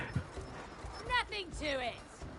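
Horse hooves clip-clopping in the video game It Takes Two, a short burst of rapid hoofbeats with a brief whinny-like cry, and players' voices talking over it.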